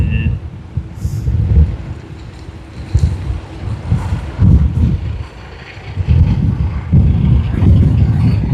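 Gusty wind buffets the microphone in uneven bursts at Sydney Airport, rumbling low and loud, with a voice faintly mixed in.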